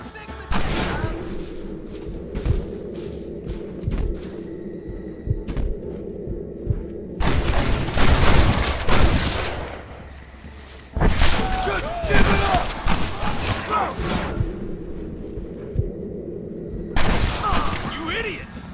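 Heavy gunfire rattles through a gate battle in Red Dead Redemption, with dense fusillades and booming shots arriving in loud bursts and brief lulls, while voices shout over the fight.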